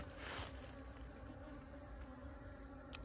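Bees buzzing around a box-lid feeder of honey syrup set out beside a hive, a faint steady hum of many wings with individual insects droning closer and past, no talk.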